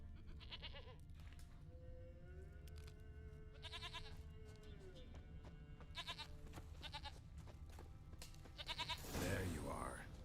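Goats in The Witcher 3: Wild Hunt give several wavering bleats in rhythmic bursts against a steady ambient game background, with a brief louder rustle near the end and a voice speaking in places.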